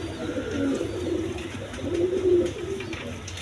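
Pigeons coo steadily at a pigeon farm, several low rolling calls rising and falling in close overlapping phrases, with no talk over them.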